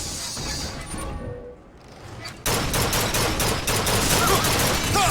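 Heavy gunfire in BioShock Infinite erupts suddenly after a quieter stretch, with a dense, loud barrage of rapid shots and crashing impacts continuing to the end while voices shout amid the fighting.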